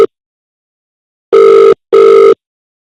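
A telephone call rings out on the line: two short, loud, evenly spaced ringing tones separated by silence.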